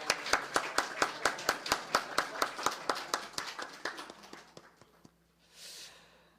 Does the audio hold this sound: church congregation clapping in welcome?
yes